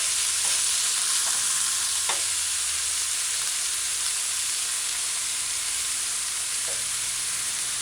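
Fish and baked beans stew sautéing in a pan gives a steady, soft sizzle and frying hiss throughout, with a few faint stirring clinks; no voices.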